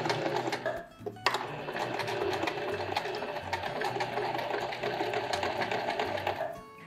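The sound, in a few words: sewing machine stitching a skirt hem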